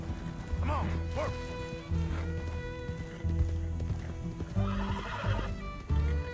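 A horse in the video game Red Dead Redemption 2 whinnies twice over steady clip-clopping hooves at a gallop, close and clear, with someone talking briefly over the game sounds.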